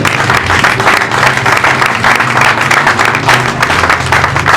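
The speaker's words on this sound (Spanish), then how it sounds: "¿Quieres darle fuerte el aplauso al Señor?" A church congregation claps loudly and steadily in sustained applause during a sermon, dense and close, with no talking over it.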